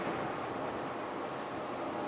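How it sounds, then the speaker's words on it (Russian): Atlantic ocean surf on the coast of southern Morocco near Tarfaya, heard as a steady, even roar of waves rolling in one after another, with wind in the background and no voices. "порядка 5-6 последовательных волн, когда они накатывают друг за другом, постоянно идет такой равномерный шум"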